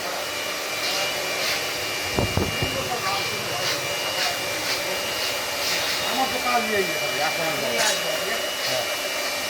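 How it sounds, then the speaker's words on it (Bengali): A puffed rice roaster machine runs with a loud, steady blower-like roar and a droning hiss throughout, with a faint voice briefly audible beneath the constant noise. "উন্নত মানের সিস্টেমের মুড়ি মেশিন, একদম ফ্রেশ মুড়ি হবে, চকচকে মুড়ি"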